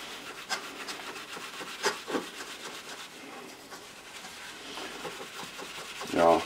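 Paint is rubbed off a chrome part with repeated short scraping, rasping strokes, fairly close and moderately quiet, ending with a louder scrape.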